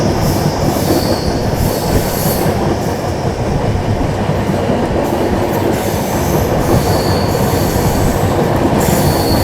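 The AP Sampark Kranti Express (12707) rolls along at speed with a loud, continuous rumble of wheels and carriages, rhythmic rail clatter and intermittent high-pitched wheel squeal throughout.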